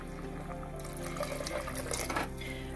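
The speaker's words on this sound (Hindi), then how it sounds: "इसके अंदर पानी अभी और जाएगा।" Water poured into a pot of dal makhani while cooking, a steady splashing pour running throughout under soft background music.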